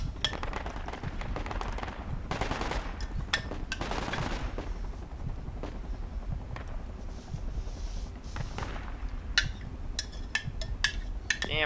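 An enemy squad fires on the player in a video game, with rattling bursts of gunfire, some distant and some sharper and closer, under steady wind-like noise.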